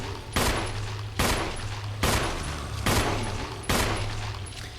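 Weapon fire in the Resident Evil Remake game: five heavy, evenly spaced shots about a second apart, each loud and booming over a steady low background rumble.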